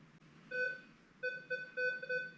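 A metal detector sounds a clear electronic tone over a buried penny-sized coin, in several short beeps with gaps between them, moderately faint with no talking.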